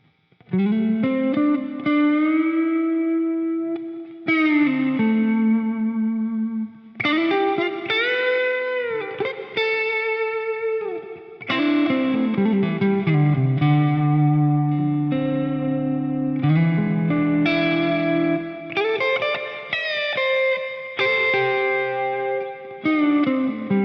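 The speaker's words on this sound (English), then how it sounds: "the beautiful things that are happening in those reverb and delay trails" Sustained electric guitar chords drenched in reverb and delay from the Valhalla Supermassive plugin, each phrase leaving long shimmering echoing trails that blend into the next notes.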